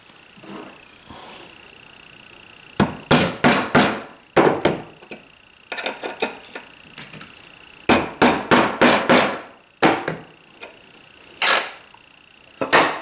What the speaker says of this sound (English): take my transfer punch and mark out my two holes here